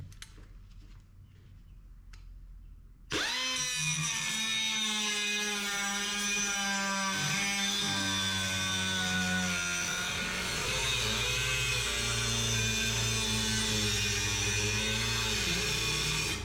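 A McGraw 3-inch air cut-off tool cuts into a steel bracket, starting abruptly after quiet with a loud, sustained high whine whose pitch sags and wavers under load, shifting once partway through.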